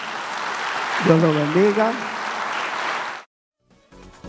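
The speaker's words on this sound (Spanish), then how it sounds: "denle un aplauso a su Señor" A church congregation applauds its Lord during a Spanish-language worship service, producing a broad wash of clapping for about three seconds under a voice before it drops to near silence.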